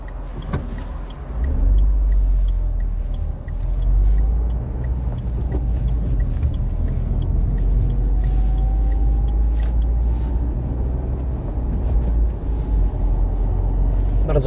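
Dacia Sandero TCe100 LPG accelerating on a bypass road from 80 to 120 km/h, heard from inside the cabin as a steady low engine drone and road rumble, with a rising whine building through the run.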